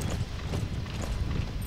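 Steady clopping of horse hooves in the video game Metal Gear Solid V, a continuous rhythmic beat at moderate volume with no voices.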